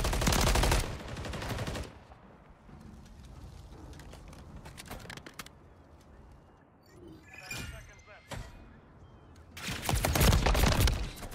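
Automatic rifle fire in Call of Duty MW3 ranked multiplayer comes in loud bursts at the start and end, with quieter scattered shots and game effects between, and players talking over it.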